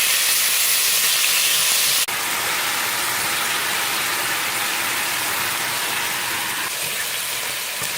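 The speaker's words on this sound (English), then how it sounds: "Pour some oil into a frying pan and grill marinated chicken." Marinated chicken grilling in oil in a frying pan, a steady loud hiss of sizzling with no speech, briefly dipping once early on before carrying on evenly.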